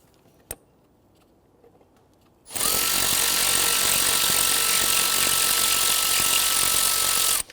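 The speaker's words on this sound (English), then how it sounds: "you want to go ahead and remove the 4 bolts holding the throttle body to the intake" A power tool whirs loudly and steadily for about five seconds while backing out the bolts holding the throttle body to the intake on a 2008-2013 Infiniti G37 3.7L V6, after a brief click and near-silence.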